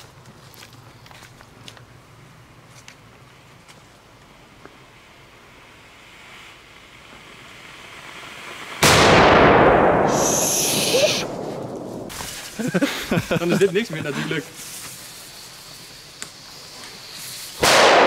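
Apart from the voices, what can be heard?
Polish market firecrackers exploding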